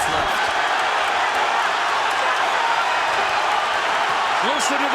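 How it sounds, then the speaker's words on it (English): A boxing arena crowd roars during the Pacquiao vs Marquez final round, a loud, steady wall of cheering and noise that never lets up, with a few brief shouts rising near the end. "Listen to the crowd, folks"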